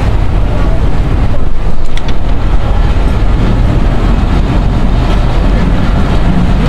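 The Mongla commuter train pulls out of Mongla station with a loud, steady rumble of wheels and carriages, heard up close with heavy wind buffeting throughout.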